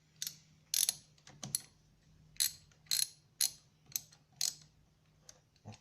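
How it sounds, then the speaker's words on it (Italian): A wrench loosening the battery terminal nut on an Opel Corsa D, giving a series of sharp ratcheting metallic clicks spaced at uneven intervals, close and fairly loud over a faint steady hum. "Allento il chiavino per la batteria"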